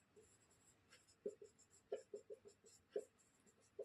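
Chalk or pen scratches out short, faint strokes on a board or paper during a Class 10 maths lesson on real numbers, an irregular series of quiet marks over a soft background hiss.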